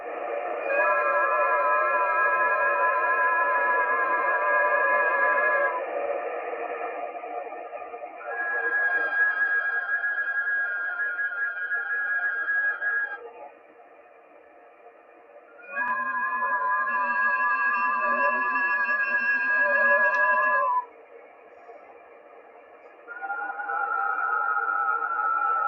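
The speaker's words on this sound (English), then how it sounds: "that's probably FT4, James Farley." FT4 digital radio signal received on shortwave: a steady multi-tone warbling data burst with stepped pitch changes, repeating in roughly six-second bursts separated by short quieter gaps, with no speech.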